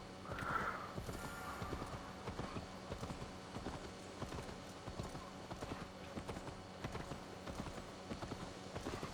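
A ridden horse in Assassin's Creed Valhalla, its hooves beating a steady, close clip-clop rhythm for several seconds beneath a busy ambient backdrop, with a brief tonal game cue near the start.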